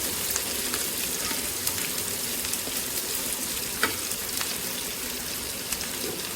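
Small onions frying in oil for mutton curry, a dense, steady crackling sizzle throughout with scattered sharper pops and light stirring, close up and without speech.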